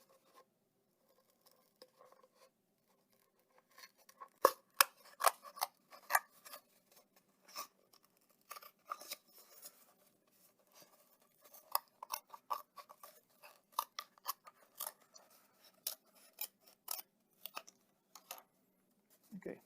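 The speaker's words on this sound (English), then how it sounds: "you're going to take scissors and you're going to cut a little hole." Scissors snip repeatedly up close, cutting a small hole for a marble run, quick irregular cuts in short bursts with brief pauses between them, fairly quiet.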